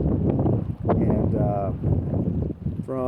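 Wind buffeting the microphone beside Kensico Reservoir in New York, a loud gusting rumble throughout with a voice talking faintly underneath.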